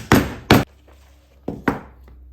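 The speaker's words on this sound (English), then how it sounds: "hit it with a hammer, and hopefully it will make those little shorts." A hammer strikes fused-art glass four times, two sharp loud cracks in quick succession, then a pause and two more close, ringing hits with brief clinking decay, no voices.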